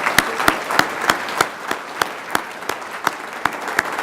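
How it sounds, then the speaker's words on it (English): An audience applauds steadily for a speaker at a public policy talk, with loud, evenly spaced claps standing out over a continuous patter of clapping throughout. "let's give a great round of applause to Dr."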